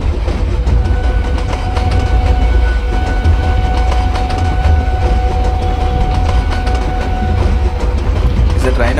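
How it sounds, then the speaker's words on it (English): In the MSTS train simulator, a passenger train rolls past on the opposite track, a steady loud rumble of wheels and rail noise with faint clicking running through the whole stretch, alongside a long-hood diesel hauling a fast passenger. "So one more train is coming on the opposite track."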